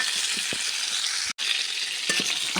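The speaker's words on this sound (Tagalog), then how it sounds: "Lagay na ang sibuyas." Onions sizzle steadily in a hot pan, a bright continuous frying hiss broken by soft taps and stirring clatters of a utensil, heard alone in a home kitchen.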